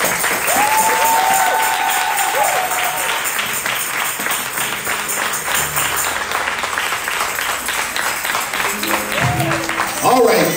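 A church congregation claps and cheers for a guest during a Sunday service, loud sustained applause filling the hall the whole time, with a few voices and calls rising over it.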